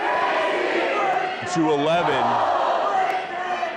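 Lively crowd noise fills a high school gym in Regina during a junior girls' curling city final, a steady broadband roar of cheering and chatter with a voice rising briefly above it midway.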